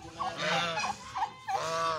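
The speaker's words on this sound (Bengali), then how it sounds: "এমনকি এখানে সাদা রাজহাঁস, টার্কি মুরগি, এগুলো এখানে দেখা যাবে।" White geese in a park honk in a quick series of loud, nasal calls, about five blasts in two seconds and close by, with no talking.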